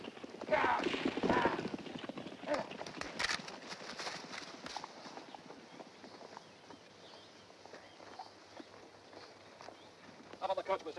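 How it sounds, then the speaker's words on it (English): Horses clip-clop with a hitched stagecoach in a Western TV drama, steady hoof beats running under loud, frequent male dialogue. "Mr. Cobb, unhitch the horses."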